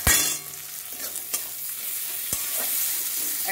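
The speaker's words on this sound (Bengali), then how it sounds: "এবার আমি টমেটোগুলো দিয়ে দিচ্ছি" Tomatoes tipped into a frying pan of browned onion and stirred, giving a loud initial sizzle, then steady frying crackle with a few sharp scrapes of the spoon against the pan.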